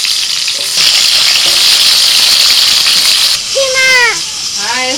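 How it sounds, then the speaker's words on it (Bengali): Pointed gourd crackles and sizzles in hot oil in a kadai, a dense, close frying hiss that runs throughout while a voice speaks over the last second or so. "এবার পটল ভেজে নেব।"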